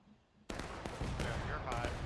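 Gunshots in the woods during a public match, a sudden loud burst of rapid fire breaking in and continuing as a dense fusillade, with a voice talking over it.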